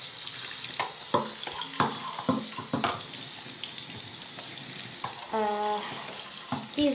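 Water runs steadily from a tap or shower while a long-haired dog is washed, a constant close hiss with occasional splashes and knocks, and a brief tonal squeak partway through.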